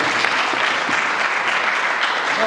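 An audience at a film festival in Diourbel applauds, a dense, steady wash of many hands clapping throughout the short stretch, fairly loud and close.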